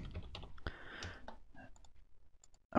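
Keys clicking on a computer keyboard as a command is entered, a short irregular run of taps, close but quiet, with no talking.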